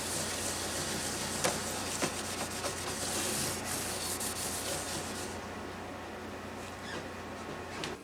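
Frets on a Guild Starfire guitar neck being polished by hand, a steady dry rubbing and scrubbing with a few sharper scrapes, close and continuous, easing off and quieter toward the end.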